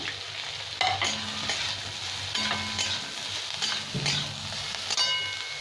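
Long-cut carrot strips stir-frying in hot oil for chowmein make a continuous close sizzle, with a few spatula scrapes and clinks against the pan scattered through it.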